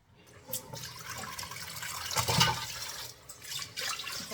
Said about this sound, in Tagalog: Ito na ang the last na hugas. Yung final na hugas. Kasi malinis na o klarong-klaro ng tubig